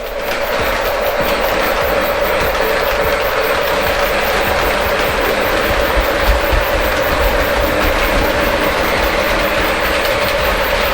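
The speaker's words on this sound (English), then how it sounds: "And now my train's going in the right direction." A model train rolls through the yard of a layout with a constant ratcheting, geared whir and soft hiss, even in level and close throughout, and no one speaks.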